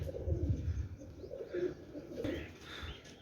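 Black Teddy pigeons coo in low, repeated, throaty bursts up close, with some faint chirps and rustling mixed in and no talking over them.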